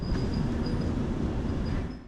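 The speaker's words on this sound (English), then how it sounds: "one of the City Elephant regional trains is just pulling in" Low rumbling rail noise of a train rolling in, with a faint high squeal above the steady rumble; no voices.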